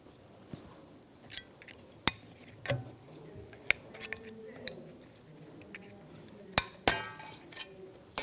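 Small metal clinks and sharp taps as a screwdriver pries old metal brake caliper bracket tins off the front brakes of a 2015-2024 Jeep Renegade, scattered isolated clicks over a quiet workshop background.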